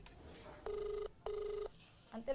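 Telephone ringing with two steady electronic ring tones in quick succession, moderately loud over faint room noise.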